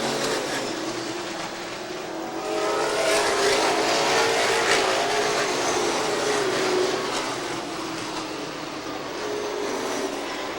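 Short-track race cars lap Seekonk Speedway in 1990, their engines roaring past in a continuous loud drone that swells and fades as the pack works through lapped traffic, with no voices.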